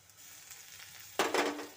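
Garlic paste, ginger paste and slit green chillies hit hot oil in a frying pan for a pea kofta curry, with a soft stir followed by a sudden, close burst of sizzling.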